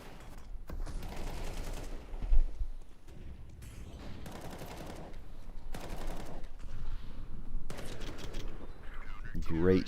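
Bursts of gunfire crackle in a competitive shooter video game match, several separate volleys spaced a second or two apart, with a commentator talking between and over them.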